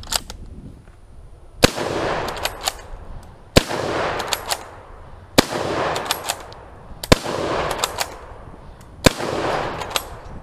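A Turkish Mauser bolt-action rifle fires five loud, sharp shots outdoors at roughly two-second intervals, each followed by metallic clicks and clacks of the bolt being cycled, with no voices.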